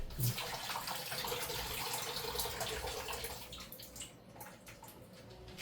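Water drains from a cooking pot into a kitchen sink, a steady close rushing pour that thins and trails off toward the end, with no talking.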